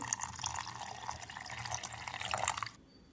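Water trickles and drips steadily over soaking tamarind, a soft splashing pour close by that stops abruptly near the end.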